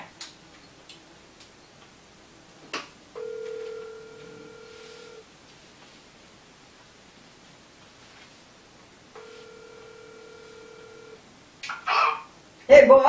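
A telephone call being dialed and placed: two long, steady electronic tones, each about two seconds, sound several seconds apart over a quiet line with faint clicks, and a louder rustle comes at the end.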